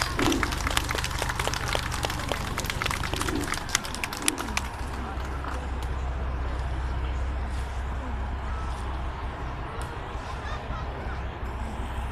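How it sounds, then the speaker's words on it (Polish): An outdoor audience at a zoo animal show applauds for Dawid, a burst of scattered clapping for a few seconds that dies away into quieter crowd ambience. "Więc proszę o brawa!"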